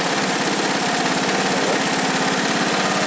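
A 1970s Honda ATC three-wheeler engine idles steadily up close, a loud, even chugging putter that runs on its own without any talk.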